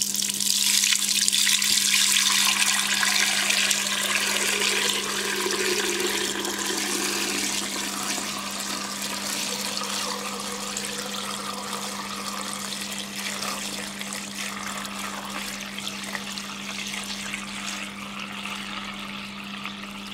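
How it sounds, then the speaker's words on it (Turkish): Homemade ghee, clarified butter just off the stove, strained into a container as a steady close trickle and splash of liquid runs throughout, with a constant low electrical hum underneath and no talking. "Yağımı süzdüm."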